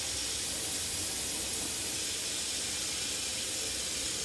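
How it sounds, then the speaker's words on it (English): Steady hiss of running water rinsing moisturizing, detangling conditioner out of natural hair, continuous and close, with no voices. "I'm going to rinse this out of my hair."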